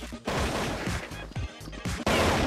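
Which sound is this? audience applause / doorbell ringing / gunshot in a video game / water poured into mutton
gunshot in a video game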